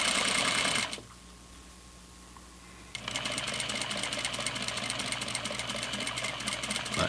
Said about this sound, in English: Back tack at the bottom to lock the stitch.